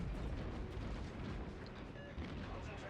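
Naval gunfire and shell explosions in World of Warships form a dense, continuous rumbling roar of booms and blasts, loud and broadband throughout with no clear gaps.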